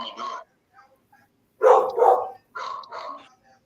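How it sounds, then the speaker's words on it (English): A neighbour's dog next door barks in three separate bursts of a few barks each, fairly loud and clear with quiet gaps between. "This dog next door is killing me."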